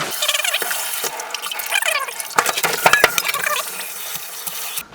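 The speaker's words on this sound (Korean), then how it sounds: "냉이를 네, 차가운 물에 한두 번 헹궈 줄게 예" Blanched shepherd's purse being rinsed in cold water, with continuous splashing and trickling of water and small clatters of handling in a kitchen sink, steady and close, no talking.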